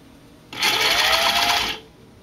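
A cover stitch sewing machine runs a single close burst of just over a second, stitching binding folded around a seam allowance down the centre of a racerback tank top, with quiet room tone before and after.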